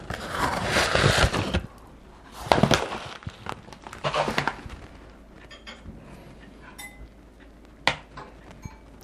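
About 50 g of dry muesli patters and rattles into a bowl in a few bursts, with light clinks and pauses between the pours.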